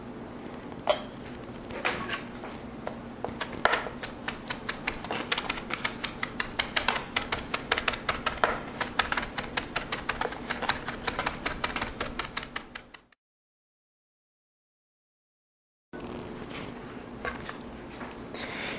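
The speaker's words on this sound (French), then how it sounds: "Nous obtenons des feuilles de thé de belle grandeur, mais que nous devrons hacher plus finement" Rapid, even knife taps on a cutting board as Japanese green tea leaves are finely chopped, a steady close rhythm that speeds slightly, stops, then resumes after a brief silence.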